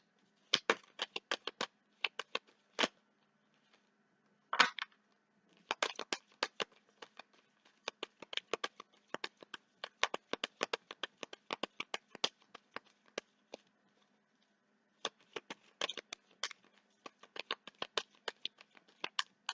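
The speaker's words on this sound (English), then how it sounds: "So sometimes people complain about the shuffling." Tarot cards being shuffled by hand, a quiet, steady run of soft crisp riffles and taps close by, repeating in clusters with brief pauses over nearly twenty seconds.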